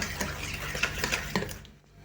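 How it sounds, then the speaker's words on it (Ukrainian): A spoon scrapes and clicks around a bowl stirring kefir and baking soda batter in a steady rhythm, with soft wet mixing sounds and small knocks against the sides. "Вимішуємо."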